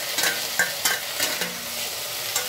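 Chopped tomatoes go into a pan with ginger paste and fry, giving soft sizzling broken by several sharp stirring scrapes at an uneven rhythm, close and moderately loud.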